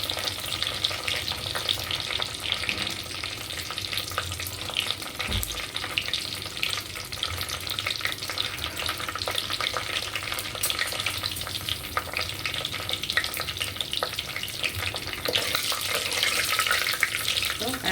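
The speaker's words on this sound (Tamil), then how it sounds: "கடுகு பொரிஞ்சிச்சு" Mustard seeds spluttering in hot oil with curry leaves and green chilli for a fish curry, a dense continuous crackle and sizzle with occasional louder pops and a single low knock, no speech.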